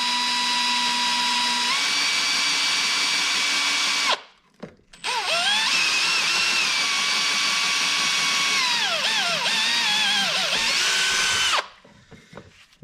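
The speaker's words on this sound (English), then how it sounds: "drill through the plastic" A power drill bores through plastic in two long whining bursts, the first stopping briefly before the second, with pitch sagging as the bit bites, then the motor cuts off.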